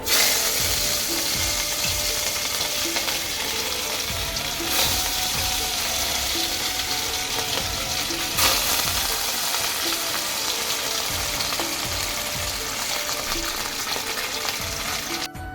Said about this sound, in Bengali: মাছটা তো ভালো করে ভেজে নিয়েছি